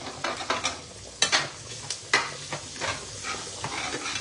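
A metal utensil stirring and scraping through pasta in a HexClad pan, sharp scrapes and clacks over a low sizzle, close up and without talk.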